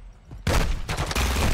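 A short burst of rapid gunfire in a video game, loud and close, cutting in abruptly after a quiet moment and holding for about a second.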